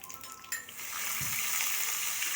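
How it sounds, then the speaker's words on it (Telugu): Urad dal, chana dal and cumin fry in a pan, starting as a faint crackle that swells after a moment into a steady, close sizzle with no talking. "మినప్పప్పు శనగపప్పు జీలకర్ర వేసుకొని ఫ్రై చేసుకోవాలి"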